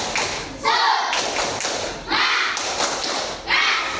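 A classroom of students does a rhythmic group clapping cheer, three loud swells of quick hand claps mixed with chanting voices, each lasting about a second.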